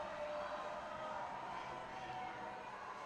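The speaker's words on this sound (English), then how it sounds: "Crowd gets loud from Mitchell here on platform 2" Crowd at a collegiate powerlifting nationals cheering a lifter retaking a 250 kg squat on the platform, a distant, steady wash of crowd noise without distinct claps.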